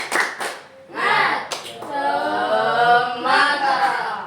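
A classroom of children does a rhythmic spirit clap led by their teacher, sharp hand claps in a quick pattern mixed with voices chanting along, near and fairly loud.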